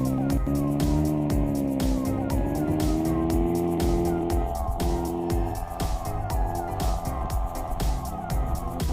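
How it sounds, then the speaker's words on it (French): A race car engine in the Roblox game Brookhaven RP drones continuously with steady tonal harmonics that shift pitch, loud and close throughout, with brief clicking sounds over the top. "Celle-là, apparemment, c'est carrément une voiture de course."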